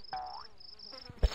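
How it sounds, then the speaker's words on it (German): Flies buzz in the video game The Visitor, a short thin drone with a brief whining sweep, quiet and close, ending with a small soft thump. "Achte doch auf die Fliegen."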